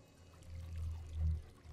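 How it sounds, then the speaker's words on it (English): Drinking holy water in the video game Remnant 2 gives a soft pouring, gulping liquid sound, low and muffled, rising in two short swells. "I just drank holy water."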